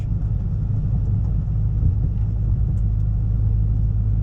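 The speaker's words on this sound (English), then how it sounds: "Definitely a deep baritone exhaust note from this system." A 2022 Ford Maverick with an MRT dual tip exhaust idles with a deep, steady, loud low-pitched rumble, the engine holding a constant drone with no voices over it.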